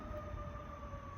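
A distant siren in downtown Atlanta holds a steady wailing tone, faint and continuous over a low rumble of city background.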